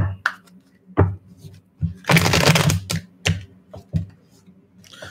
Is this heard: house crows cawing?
no